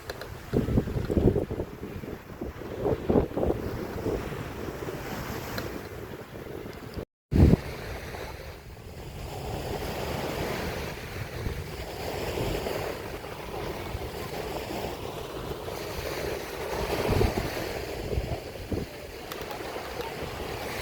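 Sea waves wash steadily at the Dubai shoreline, a broad continuous rush mixed with wind buffeting the microphone, with a brief dropout partway through and swells in loudness near the end.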